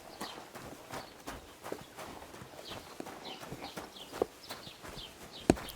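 Horse hooves clip-clop at a steady walking rhythm in Kingdom Come Deliverance 2, moderately close over a low outdoor ambience, with a couple of sharper hoof knocks near the end.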